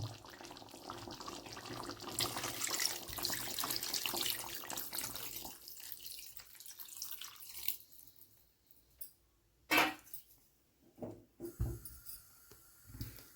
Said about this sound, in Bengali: তাই এর মধ্যে কিন্তু আমি এবার জল অ্যাড করব